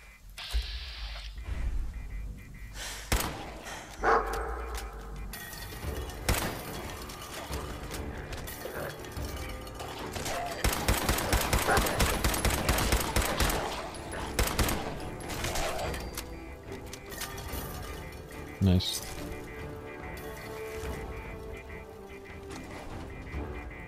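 Turret gunfire rattles in Fallout 4 survival mode at the Corvega Assembly Plant, with dense mechanical bursts of rapid shots, the heaviest volley in the middle, mixed with clanking game sounds.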